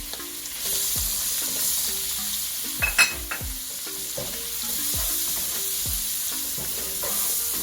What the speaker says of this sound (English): And I'm just going to continuously stir.